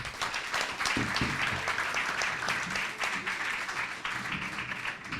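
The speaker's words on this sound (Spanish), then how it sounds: "Un aplauso, por favor." After a panel discussion on communication, the audience applauds for several seconds: many hands clapping in a continuous, moderately distant wash with a few voices faintly mixed in.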